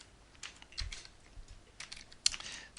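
Computer keyboard keys pressed a few times, soft irregular clicks close by and fairly quiet, with one sharper tap near the end.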